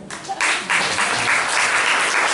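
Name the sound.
audience applause for the girls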